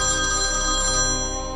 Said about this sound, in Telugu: లైన్ మెన్కి ఫోన్ చేస్తాం.